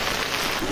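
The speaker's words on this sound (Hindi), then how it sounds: "और तेज़ हो गई, और तेज़ बारिश हो गई है." Heavy rain pours steadily on a residential colony street during a downpour, a dense continuous hiss close by with no gaps, growing stronger throughout.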